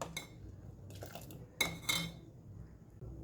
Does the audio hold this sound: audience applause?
no